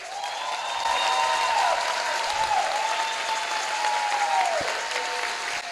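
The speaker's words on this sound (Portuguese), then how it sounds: "precisa da nossa salva de palmas também" A crowd applauds steadily for several seconds, dense clapping filling the room while a faint tone glides underneath, at a formal inauguration ceremony with speeches.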